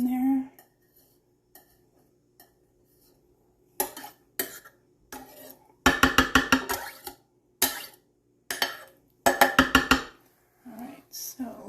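Onion added to a crockpot with ground beef, a series of clattering utensil and pot clinks in bursts, close, with quiet talk in between.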